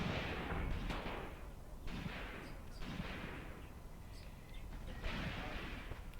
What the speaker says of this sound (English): I hear a Soviet submachine gun